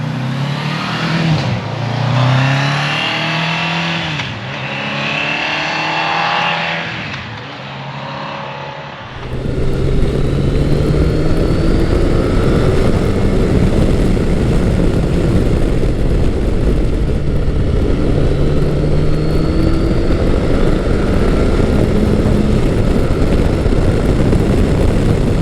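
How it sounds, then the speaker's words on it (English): A 1994 Kawasaki Concours 1000 sport-touring motorcycle riding along, its steady loud engine drone and rushing wind continuous and close after a brief quieter stretch at the start, with no one talking. "I am currently riding Kawasaki's 1994 Concours 1000, or GTR 1000 as it's called in Europe"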